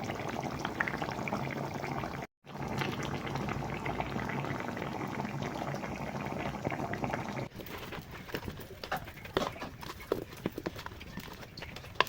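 Dal with coriander leaves boiling in a pot, a steady bubbling hiss that runs throughout, with a brief break and then sharper popping bubbles toward the end.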